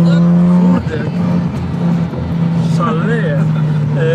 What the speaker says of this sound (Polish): Wydech jest bardzo głośny, ale nie przeszkadza ci na co dzień?